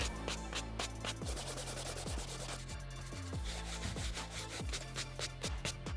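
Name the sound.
dry brushing a canvas sneaker with a brush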